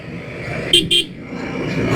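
Two quick toots of a horn from a motorbike on a solo road ride, loud and close over a steady rumble of engine and road noise.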